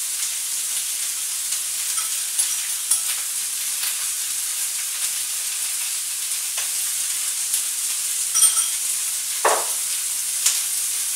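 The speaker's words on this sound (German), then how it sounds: "Ich habe es fertig mariniert, wie eben gezeigt. So sieht das jetzt aus. Schön scharf auch, kommt in die andere Pfanne ohne Öl," Marinated meat with vegetables sizzles steadily in a hot oiled frying pan, a constant close frying hiss with occasional soft pops and a stirring scrape or two, no voices.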